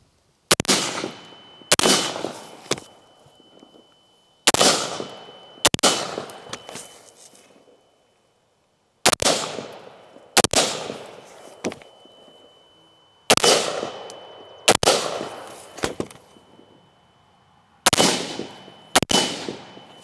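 A short-barreled 7.5 inch AR-15 rifle fires during a timed shooting drill, with sharp loud gunshots in quick pairs and clusters separated by short pauses, each shot ringing out briefly.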